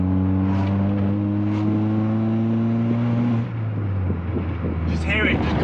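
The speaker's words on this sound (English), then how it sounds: "Just hear it just kind of gurgle that little bit while you're driving" A car fitted with an entirely new, very loud exhaust system gurgles and drones while driving, holding a steady low engine tone that shifts pitch partway through before settling, with a voice speaking over it.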